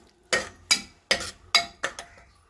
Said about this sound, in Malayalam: തക്കാളി ഒന്ന് ഇതിൽ നന്നായി വെന്ത് വരട്ടെ